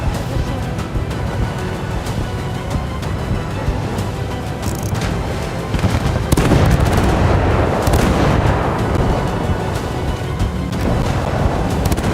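Torpedo strike and explosion on a warship in a WWII naval battle video game, a dense roar of booms and gunfire that swells loudly around the midpoint and stays heavy and continuous to the end.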